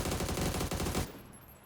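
Rapid automatic gunfire rattles in a dense burst for about a second in PUBG, then cuts off and leaves a short fading tail.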